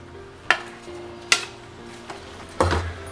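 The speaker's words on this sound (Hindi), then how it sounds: "हल्के हाथों से ऐसे बैर को डालते जाएंगे" Jujube berries dropped into cooked jaggery and stirred with a utensil: a few sharp metallic clanks against the pot, spaced about a second apart, over a faint background.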